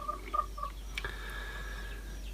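Short chicken calls from a red hen, three quick clucks followed by a brief squawk, faint and fairly close against a quiet background.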